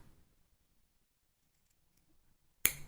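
A single sharp snip of scissors cutting crochet yarn for a bellflower, one crisp close cut arriving at the end after near silence.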